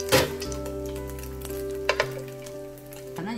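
Pulmuone thin-skin gyoza dumplings fry in a hot pan, a steady close sizzle with soft crackles and a couple of light pops and utensil touches, no talking.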